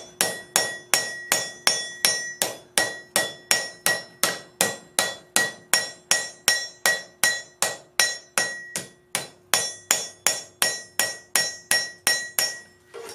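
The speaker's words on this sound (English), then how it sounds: "Go ahead and hammer this up here." Steel being hammer-forged into a coal rake, a steady run of about thirty sharp, ringing metallic blows at a quick even rhythm with a brief pause midway, close and loud with no talk.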